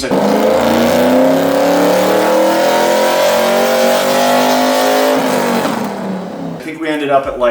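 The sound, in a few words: cammed LS1 Trans Am engine revving on dyno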